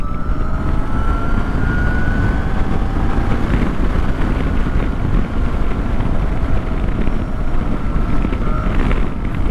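A Zero DSR/X electric motorcycle rides and accelerates, giving a steady broadband rush of wind and road noise with faint rising motor whine tones, loud and continuous throughout with no talking.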